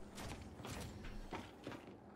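A door creaks and grinds open in the video game Gears 5, a mechanical sliding sound with a few short scraping bursts and clunks over steady game ambience.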